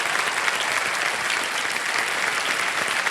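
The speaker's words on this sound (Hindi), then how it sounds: "एक बार फिर तालियों के साथ उनका अभिनंदन करते हैं" A studio audience at the quiz show Kaun Banega Crorepati gives steady, loud applause from a large crowd, with no break for the whole stretch.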